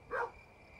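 A dog in Kingdom New Lands gives a single short, clear bark near the start, followed by quiet with a faint steady tone in the background.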